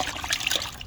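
Water trickling onto 600-grit sandpaper for wet sanding a Toyota Sienna headlight lens, a brief close, splashy dribble with no talk.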